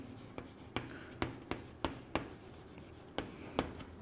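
A pen or chalk writes out a convex lens formula derivation, giving sharp, separate scratching strokes in an irregular rhythm, about eight distinct taps and scrapes close by, alone without talk.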